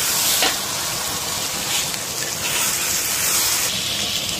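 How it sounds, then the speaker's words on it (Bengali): Spice paste hits frying masala for a Bengali-style mutton curry, a steady close sizzle and crackle with a brief louder burst near the start, continuing evenly throughout. "এবার আমরা যে পেস্টটা করে রাখছিলাম সেই পেস্টটা দিয়ে দিলাম এরকম।"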